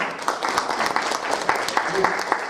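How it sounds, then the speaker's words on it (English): Applause from a live audience at a retro gaming expo in Blackpool, greeting a computer games designer on stage; a steady, dense wash of clapping with some talk mixed in. "Let's start this next bit with a round of applause, please, everybody, for Jon."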